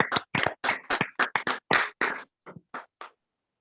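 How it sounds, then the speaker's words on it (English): A dozen or so individual hand claps for a professor in an online meeting, sharp and close over a silent background, quick at first, then thinning out into slower, softer, spaced claps. "I'm clapping for you."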